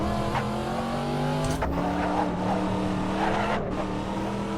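Corvette Stingray tires squealing under understeer in a racing game, a steady engine tone with a thin screech stretched over it and a couple of sharp transient clicks, no talking.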